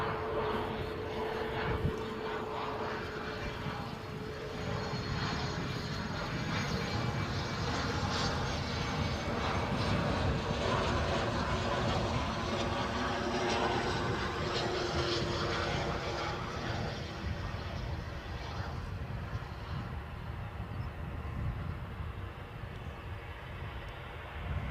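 An Arcus Air business jet inbound from Paris at Edinburgh airport, its engines a broad sustained roar heard from a distance that swells and holds steady for the whole stretch, with no voices over it.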